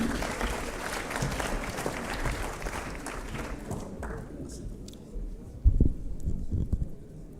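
Conference audience applauding the President of Somalia at an East African economic cooperation summit, dense clapping that dies away after about four seconds, followed by scattered thuds and shuffling in a quieter hall.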